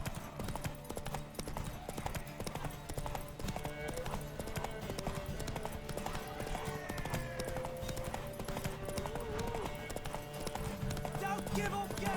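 Horse hooves clip-clopping steadily in The Witcher 3 (PS5 remastered), with game music and voices over the fairly quiet, continuous rhythmic hoofbeats.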